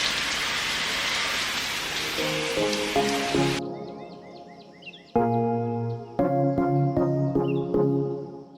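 A hissing spray of water falls on the leaves of hanging plants under a shed, then stops, leaving birds chirping nearby with music-like tones; the spraying returns in short bursts.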